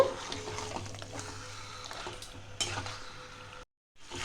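Chicken coated in spices gets stirred in a pan, with scraping and light sizzling under a low hum. A sharper scrape lands near the end, then a brief silence.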